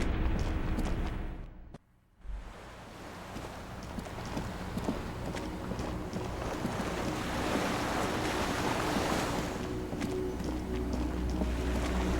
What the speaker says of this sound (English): The skiff is swaying on the waves.